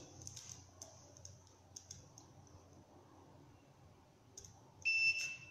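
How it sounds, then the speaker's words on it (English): Faint clicking and soft ticking over low background hum, then a short, loud electronic beep near the end from a Centurion SDO4 T12 gate motor controller in remote programming mode. "Press and hold the remote button until you hear a beep"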